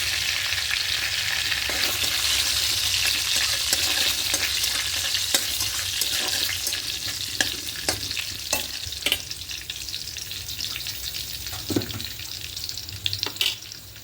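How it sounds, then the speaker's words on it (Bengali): Bengali five-spice (panch phoron), four dried red chilies and two bay leaves fry lightly in hot oil, a steady close sizzle joined by clustered scraping and clinking of stirring in the later half, without speech. "এই তেলের মধ্যে পাঁচফোড়ন দেব চারটে শুকনো লঙ্কা দেব আর দুটো তেজপাতা দেব দিয়ে হালকা একটু ভেজে নেবো"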